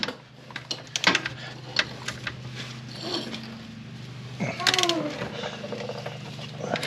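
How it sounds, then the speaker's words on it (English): Nuts and bolts being tightened on a Can-Am Defender, clicking ratchet and metallic clinks in short bursts close by, with a person talking and some mechanical whirring in between. "Get the nuts and bolts in and snug her up."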